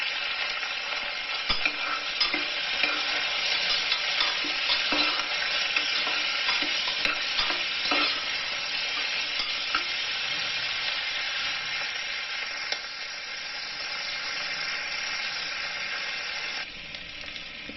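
Ingredients are sautéed in a pan for yam biryani, with a steady, even sizzle and frequent stirring scrapes close by and no talking.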